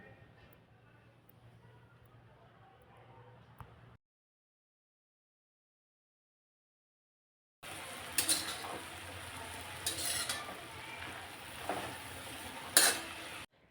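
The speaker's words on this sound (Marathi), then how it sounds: "तर चांगली शेंग बघा मस्त अशी मी परतून घेतली" Hyacinth bean pods being stir-fried with roasted peanut powder in a pan, brief scraping and sizzling up close in two bursts separated by silence, with some faint clinks of utensil against the pan.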